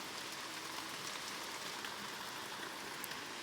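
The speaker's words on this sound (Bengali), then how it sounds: "দেখো বন্ধুরা, সকাল থেকে কেমন মুষলধারে বৃষ্টি হচ্ছে।" Steady heavy rain falls all around, a dense, even hiss of drops on surfaces with no break and no voices.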